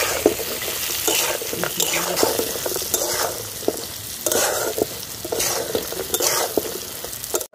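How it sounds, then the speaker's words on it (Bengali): Chopped chillies fry in a pan for chilli soybean, giving a bright continuous sizzle with frequent scraping and stirring strokes close by. "লঙ্কা কুচিগুলো দিয়ে দিলাম।"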